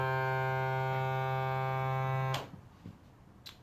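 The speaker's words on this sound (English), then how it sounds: "The next integration that I added was the motorized pump for the air tank," Small motorized pump filling an air tank, a steady electric buzzing hum for about two seconds that cuts off abruptly, followed by faint handling clicks.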